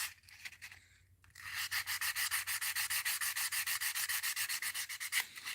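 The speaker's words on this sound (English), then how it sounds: "all I'm doing now is just sanding and trying to polish this diving lip" Hand sanding on a musky crankbait diving lip, a quick run of regular back-and-forth rubbing strokes after a short pause, close and alone.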